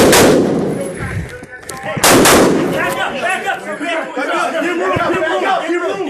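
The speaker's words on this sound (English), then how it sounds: "Shots being fired." Gunshots ring out during a police response to a school shooting at CVPA, with a loud sharp report near the start and another around two seconds in, followed by officers shouting and radio chatter.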